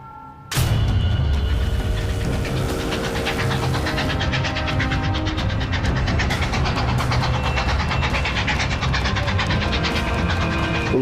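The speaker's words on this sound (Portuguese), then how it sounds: "Um trem de carga corre em direção ao sul, pronto para reabastecer o exército da União" A freight train runs south on rails, loud and steady throughout: a deep rumbling roar with dense rhythmic clatter of wheels over track joints, starting abruptly and continuing without pause.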